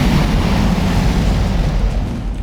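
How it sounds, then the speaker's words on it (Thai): Explosion in the Minecraft video game, a loud, dense rumbling blast that fills the whole moment with sustained low roar and no talking. "โดนระเบิดเนี่ย"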